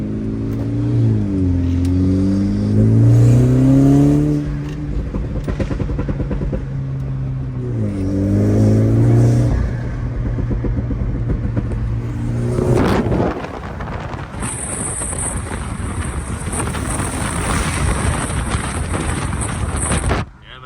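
BMW F30 330i with a new intake revving hard during a drive, two rising and falling engine pulls followed by a gear change and further acceleration with wind noise, all loud and close.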